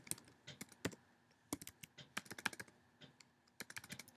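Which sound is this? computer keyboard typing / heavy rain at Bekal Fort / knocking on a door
computer keyboard typing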